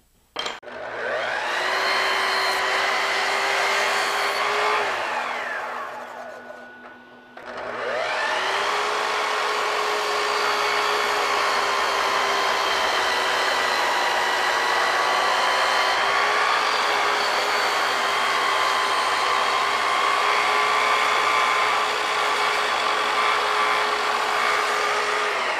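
A 10-inch power saw trims a wooden corbel for a Craftsman mantelpiece with a loud, steady whine. The motor spins down briefly and then runs up again for a long continuous cut, with no talking.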